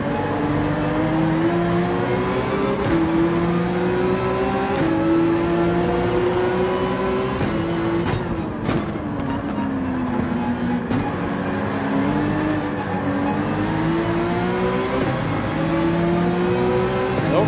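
Porsche 911 engine in Gran Turismo 7 racing at the Nürburgring, a continuous loud whine that climbs through the gears, drops on shifts and braking, and runs steadily without talk.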